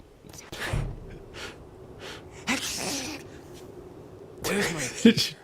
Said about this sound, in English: Jack's just sneezing.